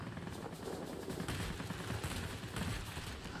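Anti-aircraft gun in a video game firing a rapid, steady burst of shots, loud and continuous for a few seconds with no talk over it.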